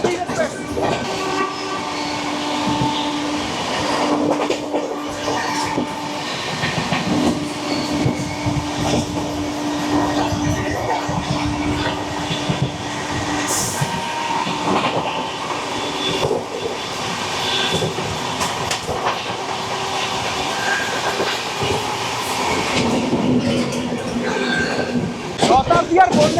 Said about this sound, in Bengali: এটা হচ্ছে স্টিল এক্সপ্রেস।